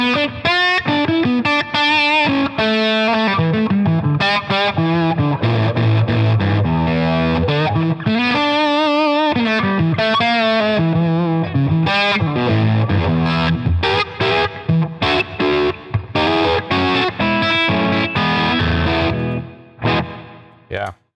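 A gold top electric guitar with PAF humbucker pickups rings through a distorted amp, with sustained overdriven chords and melodic lead lines played loud and continuously before the notes fade out at the end.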